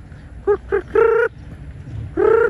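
A chicken calls nearby: two short clucks, then a longer drawn-out call, a pause, and another long call.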